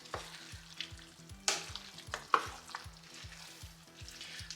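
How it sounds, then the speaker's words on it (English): Shrimp jambalaya stirred in a pot, with a steady close sizzle and a few sharp spoon scrapes and knocks against the pot; a low rhythmic background hum runs throughout. "now it's time to add our shrimp. And we're going to give that a really good stir"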